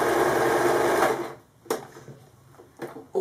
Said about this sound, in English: To lift the presser foot at any time, always make sure that the needle is inside